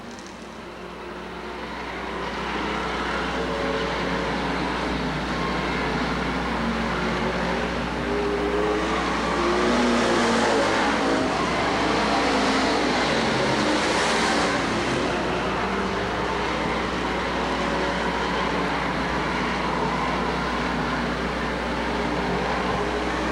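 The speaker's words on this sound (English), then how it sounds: "looking to pass the 87 car of Bill Moosey." Street stock race cars battle for position at Lakeport Speedway, their engines blending into a continuous roaring drone that builds and holds for over twenty seconds, heard from trackside at a moderate distance, without speech.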